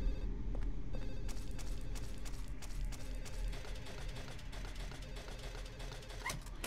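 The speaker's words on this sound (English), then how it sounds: "Somebody shut the fucking phone up" A telephone rings in Silent Hill 4: The Room, its electronic tones repeating steadily beneath dense clattering, mechanical game sound that fills the whole stretch, with no talking.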